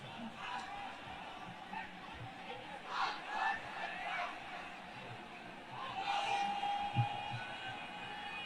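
A crowd at an outdoor Islamic sermon gathering in Lalmonirhat, Bangladesh, shouts the takbir response in loud rising bursts of massed voices. Other voices and babble carry on underneath between the shouts.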